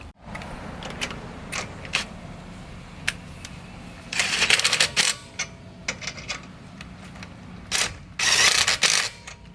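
A ratchet works Muteki lug nuts on a 2018 Subaru WRX wheel, with bursts of quick metallic clicking, loudest in two longer runs near the middle and the end, close by.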